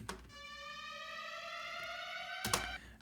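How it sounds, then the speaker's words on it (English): A steady, sweeping electronic siren tone with bright harmonics holds for a couple of seconds, cut by a sharp hit before ending. "And then I just have a siren going on."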